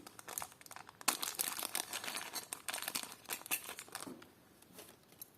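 A small plastic package from a parcel of vintage jewelry is handled and opened close up, giving bursts of crisp crinkling and rustling that ease off toward the end.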